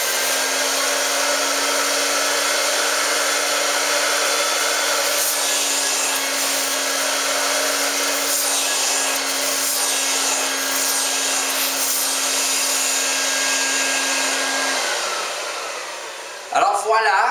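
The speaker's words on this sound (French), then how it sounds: "on va rincer avec la machine pour éliminer le savon et c'est terminé" A carpet cleaning machine runs steadily over a rug, rinsing out soap after paint removal, a loud continuous motor whine with a constant hum lasting about fifteen seconds before cutting off near the end.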